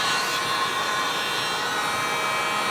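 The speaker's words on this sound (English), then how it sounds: "the only way to easily get this out is to use a heat gun" A heat gun blows a steady, loud, even rush of hot air for under three seconds while heating the back glass of an iPhone XR, alone with no talk.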